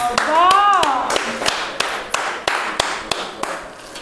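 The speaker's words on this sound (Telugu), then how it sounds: "నువ్వు చప్పట్లు కొట్టు." A child claps hands at home, a series of sharp separate claps at an uneven, slow pace, and a voice speaks near the start.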